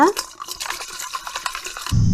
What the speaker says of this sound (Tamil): நல்லா இந்த மாதிரி கலக்கி விடுங்க